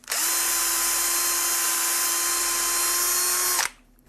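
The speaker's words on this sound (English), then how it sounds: "Very precise way of tapping these holes very, very fast." A power tool tapping holes in PEEK plastic, cooled with a little alcohol: a steady high motor whine runs unbroken for about three and a half seconds, then cuts off abruptly.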